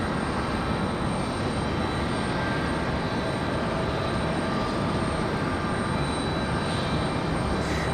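A steady, loud broadband roar of an airliner arriving at Raleigh Durham airport, engine noise filling the whole stretch without a break and with no talk over it.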